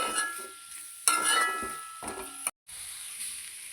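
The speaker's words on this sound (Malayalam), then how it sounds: "നന്നായി ഇളക്കി യോജിപ്പിച്ച്" Mushroom curry with chili powder is stirred in a pan with a spoon. Short scraping and clinking strokes alternate with brief pauses, and a soft sizzle runs under them at moderate volume, with no voices.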